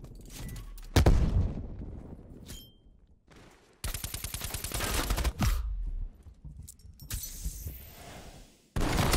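Hue 77 trench shotgun firing in Black Ops Cold War: loud, sharp blasts in a busy firefight, with a rapid burst of repeated shots midway, several heavy single booms and trailing shell and impact clatter.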